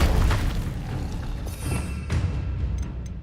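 Confringo spell blasts in Hogwarts Legacy, a deep booming impact at the start followed by a couple of softer thumping bursts that trail off with fading rumble.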